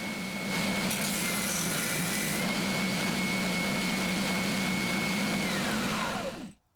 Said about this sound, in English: I'm going to grind some preliminary bevels first, while I have something to hold on to.